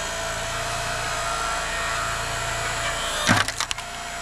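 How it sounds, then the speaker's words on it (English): A hydraulic log splitter drones steadily as it drives into a frozen birch firewood block, then a brief burst of sharp cracks and splintering wood as the block splits apart near the end. "The splitter is only in maybe 3/4 of an inch to an inch, and that block splits apart already."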